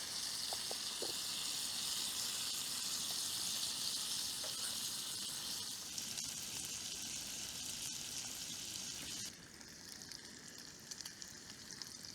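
Sausages frying in a camp skillet outdoors, a continuous bright sizzle and hiss holding steady throughout with a few faint clicks, dropping slightly in level near the end, no voices.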